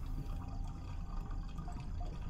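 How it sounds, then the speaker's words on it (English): Running water in the horror game Fears to Fathom: Norwood Hitchhike, a steady low wash like a filling tub or pouring tap, continuous and fairly quiet throughout. "I hear water."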